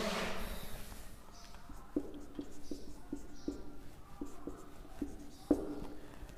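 Pen scratching on paper while notes are written by hand, with soft repeated strokes and taps at a steady, unhurried rhythm, close and quiet against a faint room hiss.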